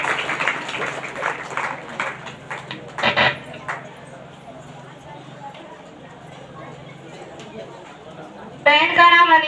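Applause in a church service, with a burst of rhythmic clapping from a congregation at the start, then quieter murmuring, and a voice coming in near the end.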